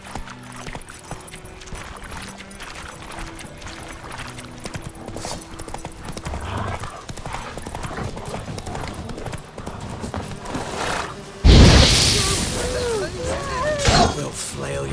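The horse Roach gallops in The Witcher 3, a steady run of hoofbeats under game audio, then a sudden loud crash near the end followed by shouting voices.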